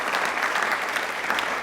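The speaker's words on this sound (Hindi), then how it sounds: "तालियां एक बार जोरदार होनी चाहिए वापस से।" Studio audience applauding loudly at a DD Rajasthan quiz show, with dense, steady clapping and no talk throughout.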